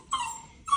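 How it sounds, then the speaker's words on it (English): Puppies whimper close by in an indoor workspace, letting out two high, drawn-out whines in under a second with a brief pause between them. "Excuse the puppies in the background."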